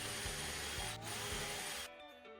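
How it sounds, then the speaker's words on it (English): A power saw cuts a wooden tether block for a mailbox post: a loud, steady whine with rhythmic low thumps as the blade bites. It drops away sharply near the end. "The next step is to cut the tether block to length."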